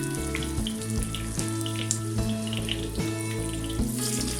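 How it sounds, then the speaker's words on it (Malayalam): Pink perch fish fry in hot oil with curry leaves, Kerala style, giving a steady, loud hiss and crackle of sizzling that runs without pause throughout. "ഇനി ഇതിലേക്ക് ഓരോരോ മീനായിട്ട് നമുക്ക് ഇട്ട് കൊടുക്കാം"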